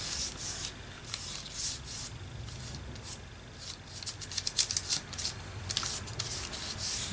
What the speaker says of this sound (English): now I'm just going to rub some gesso all over this